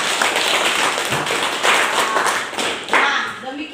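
A classroom of students claps together in a dense burst of applause that rises and falls over a few seconds, fairly close and loud.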